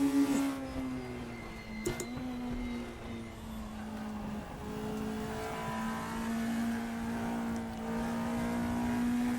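A race car engine in the Raceroom sim climbs slowly through its rev range, a strained droning tone rising and dipping in pitch, steady and moderately loud on its own.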